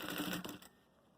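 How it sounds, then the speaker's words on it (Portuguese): A sewing machine stitches along the edge of a makeup case in one quick, quiet burst of rapid needle chatter that stops abruptly after about half a second. "vou passar a costura de novo aqui na beirada, pra fixar o outro lado"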